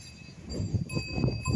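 A cow with something tied around its neck, out on a mountain trip, gives soft livestock sounds with a faint, steady bell-like ringing over low rustling and movement close by.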